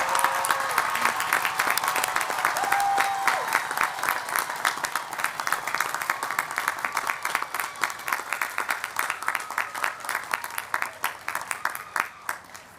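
An audience at a May 2023 undergraduate commencement applauds the graduates, steady dense clapping that carries on at full strength for several seconds and then gradually thins into scattered claps.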